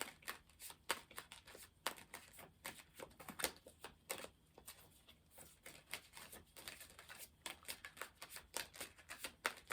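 Repeated crisp riffling bursts of cards being shuffled, close and fairly quiet, with short pauses between rapid flurries.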